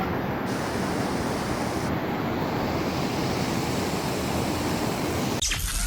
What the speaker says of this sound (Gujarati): અને તમે જોઈ શકો છો વરસાદ આવે છે અને આ ધોધ જુઓ તમે.